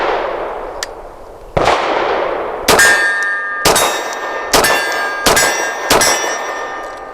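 A .40 caliber pistol fitted with a DPM recoil system fires about six loud, sharp reports at uneven intervals, each followed by a ringing metallic decay.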